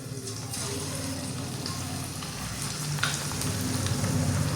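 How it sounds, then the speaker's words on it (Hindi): Chicken pieces frying in hot oil in a pan for paratha rolls, a continuous close sizzle with bubbling and a few stirring clatters, no voices. "अब हम पैन में ऑयल लेंगे और इसके अंदर हमने जो ये चिकन हम फ्राई करेंगे"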